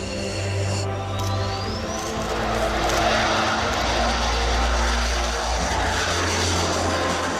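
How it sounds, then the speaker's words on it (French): Unmanned fighter jet in flight with no pilot aboard, a steady loud engine roar with low droning hum and broad rushing noise, continuous and close throughout with no talking. "Sans aucun pilote à bord, le vol de ce chasseur va durer ce jour-là 20 minutes."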